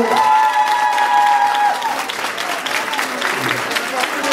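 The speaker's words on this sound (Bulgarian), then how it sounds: "Айде давайте, заповядайте! Аплодисменти!" A crowd at a street-salsa dance school's tenth-anniversary show bursts into loud applause mixed with cheers and voices, with a sustained tonal sound riding over the clapping early on before the ovation carries on alone.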